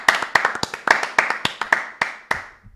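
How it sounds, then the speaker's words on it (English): A few pairs of hands clap on a live Saturday football show, about a dozen sharp, close claps in a loose uneven rhythm that stop after a couple of seconds. "Big clap for everyone"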